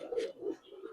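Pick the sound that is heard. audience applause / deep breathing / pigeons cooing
pigeons cooing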